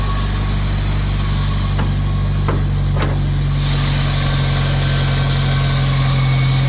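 A Jeep with a 2.5-liter four-cylinder engine idles with a steady, low, rumbling drone that holds even throughout. It is close and fairly loud, with a few faint knocks early on and no talking.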